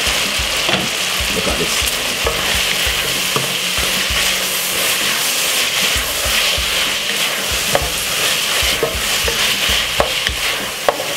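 Cabbage stir-fries in a pot in the style of Jamaican home cooking, with a steady loud sizzle and repeated scraping and clanking stirs, and a brief spoken remark partway through.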